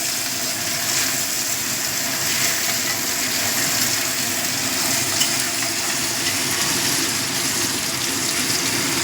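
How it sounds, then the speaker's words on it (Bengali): Chopped onions frying in a pan for a bhetki fish-head and cauliflower ghonto, giving a steady, dense sizzle and hiss that runs unbroken and fairly loud, with no voices. "পেঁয়াজটা একটু ভাজা ভাজা করে নেব।"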